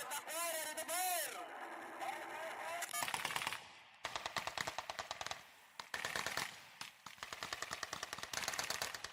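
Rapid bursts of machine gun fire ring out during a Philippine Army live-fire drill, repeated in loud rhythmic clusters; a voice with radio-like tones is heard at the start before the firing.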